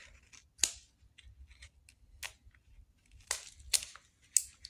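Close, crisp snips of scissors cutting tape for a temporary helmet fix, five or six sharp cuts spaced irregularly, with faint handling rustle between them in a quiet room.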